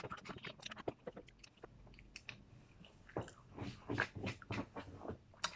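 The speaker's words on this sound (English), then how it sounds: "So I'll speed run this bread. I'll see how fast I can eat it." Fast, crunchy chewing and biting of Baker's Delight bread eaten at speed, with close-up wet mouth sounds in quick irregular bursts and no talking.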